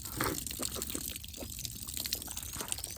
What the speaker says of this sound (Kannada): ನೀರು ಬರುತ್ತಾ ನೋಡ್ತೀನಿ. ಬರ್ತಾ ಇದೆ ನೀರು.